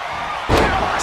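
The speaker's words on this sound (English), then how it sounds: "Power slam." A heavy body slam hits the mat during a power slam in the WWE 2K25 wrestling game, a loud sudden crash halfway through followed by sustained crowd roar and arena noise.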